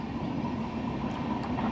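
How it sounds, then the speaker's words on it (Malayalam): A passing train makes a steady, loud rumble and roar with a faint metallic ring and a couple of brief high squeaks from the wheels. "ട്രെയിൻ പോയി കഴിഞ്ഞപ്പോൾ തന്നെ ഒരു ടിപ്പർ പോയി ഗൈസ്."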